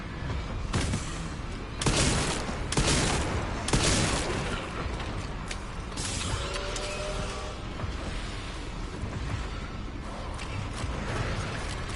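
Gunshots in a survival horror game, several sharp loud reports spaced a second or so apart early on, then quieter mechanical clatter and scattered hits, with no voices.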